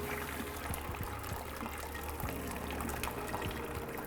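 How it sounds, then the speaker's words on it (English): Dashi broth with a bonito aroma pours into a stock pot in a steady, close, splashing trickle that keeps going with no break and no voices. "And then just gonna pour this into our stock pot."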